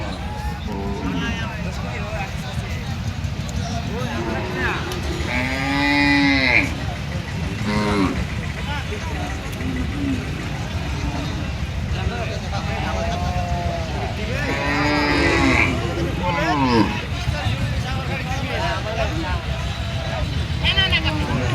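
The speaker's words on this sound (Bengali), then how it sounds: "নদীর ঘাটেই কিন্তু শত শত গরু রয়েছে।" Hundreds of cattle gathered at a riverbank, several moos rising over a constant murmur of talk and distant vehicle noise.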